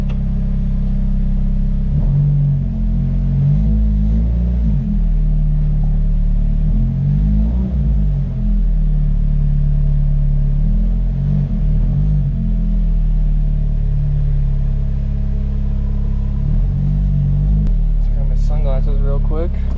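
A car with an SR20DET engine rumbles and drives, giving a loud low drone with a few swells of acceleration, heard from inside the cabin.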